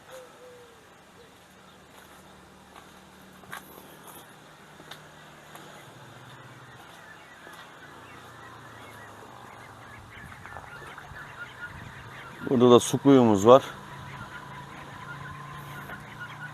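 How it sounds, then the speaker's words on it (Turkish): Ducks on a village property with a large garden call in a short, loud honking, quacking burst late in the clip. Quiet household sounds and a voice speaking come before it. "Burada da ördeklerimiz var."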